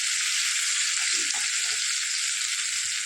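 Masala with fennel seeds and green chillies sizzles in a hot pan, a steady close hiss throughout with faint stirring scrapes in the middle.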